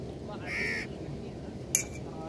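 A crow caws twice, a short harsh call followed by another, over a quiet outdoor background in Ras Al Khaimah, UAE.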